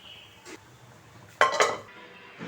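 A metal lid set onto a pan of drumstick masala, with a soft early clink and then two sharp, close metallic clatters over a quiet background.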